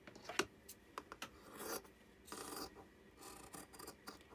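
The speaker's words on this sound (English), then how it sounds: "I'm going to trim approximately 1/4 inch all the way around my" Scissors trimming quilting fabric around a circle for a quilt block, a soft rasping snip repeated irregularly, close but quiet, with no voices.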